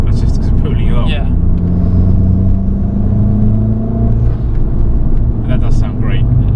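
Driving in an Abarth 500, the engine drones as a loud, continuous low rumble, the pitch shifting slightly, while people talk over it inside the car.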